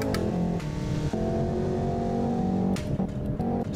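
A car engine in the Assetto Corsa racing game with traffic mod hums and revs steadily, shifting pitch a few times through gear changes, loud and continuous without talk.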